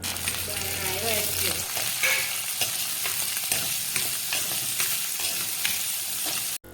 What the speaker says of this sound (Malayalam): കുറച്ച് കൊച്ചുള്ളി ചെറുതായി അരിഞ്ഞതും 1 കഷ്ണം ഇഞ്ചി ചെറുതായി അരിഞ്ഞതും കുറച്ച് കറിവേപ്പിലയും കുറച്ച് തേങ്ങാക്കൊത്തും ഇട്ട് നന്നായി വഴറ്റിയെടുക്കുക.